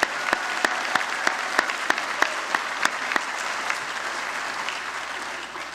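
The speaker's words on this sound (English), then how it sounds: "how about a round of applause for our graduating class of 2018?" A graduating class of 2018 is applauded at a college convocation for a school of health, the steady crowd clapping running throughout with a series of sharp, louder claps standing out near the start before it thins toward the end.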